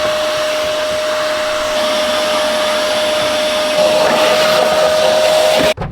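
Steady, loud vacuum cleaner drone inside a classic Land Cruiser being rebuilt, holding a constant whine with a slight shift in pitch before cutting off abruptly near the end.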